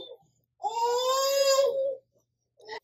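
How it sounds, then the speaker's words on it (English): An infant's cry coming through a GooDee 5-inch 1080P video baby monitor: one sustained wailing cry of about a second and a half, with brief faint fussing sounds just before and after. "Those will get louder as she begins to cry or make noises."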